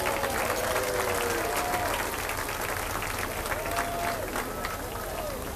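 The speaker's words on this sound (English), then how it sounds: "Let's give them a big round of applause." Outdoor crowd applauding along a street parade route during Irish Days in Murphys, steady clapping with some voices and whistles mixed in, continuous and fairly loud throughout.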